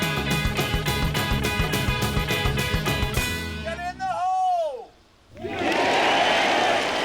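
Spectators at the 16th hole at Sawgrass roar after a birdie, a broad, loud crowd swell bursting in near the end after a stretch of rhythmic music and a brief lull.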